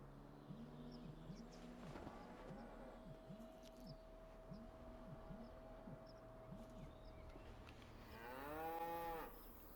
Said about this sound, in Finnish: Lehmiä on.